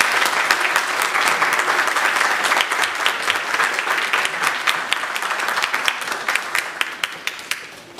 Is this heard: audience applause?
yes